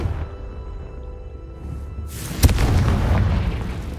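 A fire-blast spell in a video game erupts in one deep boom with a sharp crack at its onset, then rumbles on over a steady low background.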